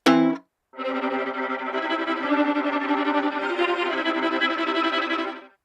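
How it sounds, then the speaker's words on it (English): A brief harsh burst, then sustained scratchy, grinding orchestral string tones bowed on the bridge, wavering and metallic, ending abruptly. "Like these bridge bows."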